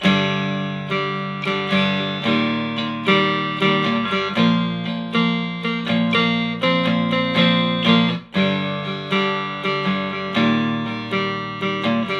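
A strummed, twangy cigar box guitar plays a steady repeating rhythm pattern, with regular accented strokes, close and clear, with a brief pause near the end.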